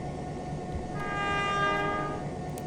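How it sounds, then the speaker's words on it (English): A train horn blasts about a second in and holds as a sustained, slightly wavering tone over a low rumble of rail machinery, moderately quiet overall. "Honk the horn."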